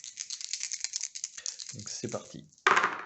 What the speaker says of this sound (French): Donc on va lancer 3 dés.